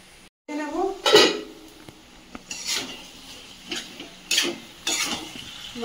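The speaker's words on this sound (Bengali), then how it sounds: "মাংসটাকে ভেজে ভেজে কষিয়ে নেব।" Meat fried with garam masala is stirred in a pan, giving a soft sizzle under the sharp clinks and scrapes of a metal spoon against the pan at irregular intervals, close by.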